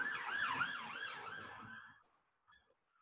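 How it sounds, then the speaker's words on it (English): A wailing emergency siren at a busy intersection cycles up and down loudly for about two seconds, then cuts off, leaving brief faint traces. "Please excuse the sirens."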